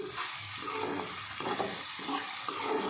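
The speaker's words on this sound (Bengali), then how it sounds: "তো ঘি আর তেল, সর্ষের তেল মিক্সড করে করছি, মিশিয়ে।" Ghee mixed with mustard oil frying in a pan gives a steady close sizzle with soft stirring scrapes, continuous across the moment with no talking.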